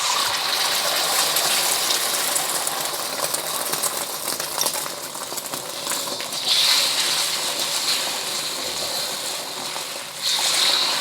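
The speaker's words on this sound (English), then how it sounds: "and then pour in your eggs." Beaten eggs are poured into smoking hot vegetable oil in a pan, setting off a loud, steady hissing sizzle that stays close and continuous, with a couple of brief bright clinks.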